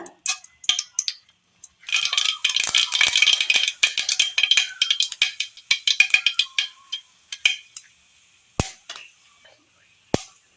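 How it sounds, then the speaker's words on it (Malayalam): Mustard seeds spluttering in hot oil in a frying pan for a Kerala curry, a dense burst of sharp crackling pops building up then thinning to scattered isolated snaps, close and fairly loud. "അടുപ്പത്തൊരു ചീനച്ചട്ടി വെച്ച് കൊടുത്ത് അതിലേക്ക് അല്പം എണ്ണ ഒഴിച്ചു കൊടുക്കാം. എണ്ണയിലേക്ക് കടുക്,"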